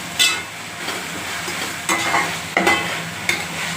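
Mutton gravy with ginger and garlic fries in a pan and is stirred, giving soft continuous sizzling broken by four sharp scraping strokes of the spoon against the pan.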